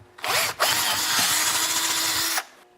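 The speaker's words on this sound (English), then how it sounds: "I'm going to have to drill it out a bit bigger." A power drill bores out a hole in a metal locking plate from a small engine muffler, starting with a brief burst, then a steady high grinding whine for about two seconds before stopping.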